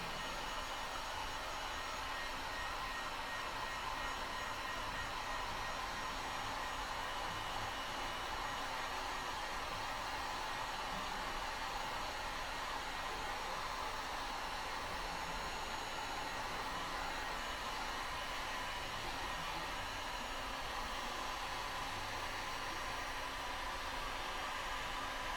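A heat gun warms window tint film on the light of a 2001 Spyder, producing a steady, loud, unbroken blowing roar that runs without pause and with no voices.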